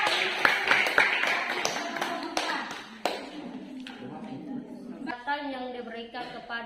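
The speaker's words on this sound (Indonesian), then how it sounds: "Kita berikan aplaus untuk kelompok 2" A classroom gives group 2 a short round of applause, a burst of scattered hand claps and taps fading out as a voice speaks over and after it.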